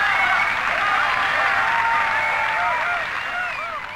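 A crowd in the video game BioShock 2 cheers and applauds continuously, a dense wash of clapping with scattered raised voices and whoops throughout.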